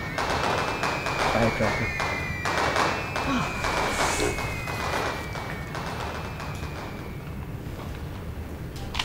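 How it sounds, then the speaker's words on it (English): Fireworks set off to scare ghosts crackle and pop in rapid bursts like gunfire, dense and fairly close, while a person speaks briefly under the noise. "They're setting off fireworks to scare any wandering ghosts away."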